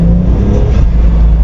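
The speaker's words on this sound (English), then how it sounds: "It's the original blow off, the small blow off valve." 2JZ-powered Toyota Cressida sleeper with its original small blow-off valve, engine droning loud and close with a steady low rumble and a slight swell of revs partway through.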